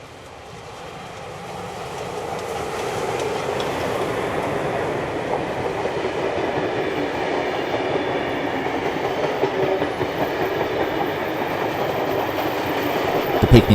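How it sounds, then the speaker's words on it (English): Steam locomotive R766 hauls a picnic train in steadily toward Thirlmere, New South Wales, a continuous rumble with rhythmic wheel clatter that slowly grows louder over several seconds, heard from trackside without voices. "await R766 from the picnic train, as it makes its way to Thirlmere"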